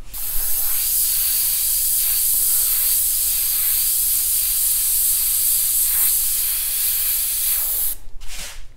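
An airbrush sprays paint onto a T-shirt for graffiti-style art in a steady, loud, close hiss that runs almost unbroken, then cuts off briefly near the end before a short final burst.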